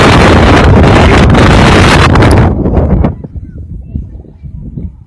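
Strong tornado wind in Karimnagar roars and buffets the microphone loudly for about three seconds, then eases into lower, gusty rumbling.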